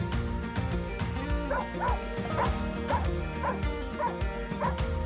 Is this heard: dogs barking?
yes